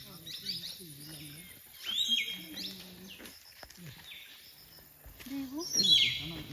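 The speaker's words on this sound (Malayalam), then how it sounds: "കണ്ടോ ഓരോ കിളികളുടെ സൗണ്ട് നോക്ക്." Birds call and chirp amid the Nedumkayam rainforest in Malappuram, with bright, short whistled notes rising over a dim, rustling forest background, clustered in bursts near the start and again toward the end.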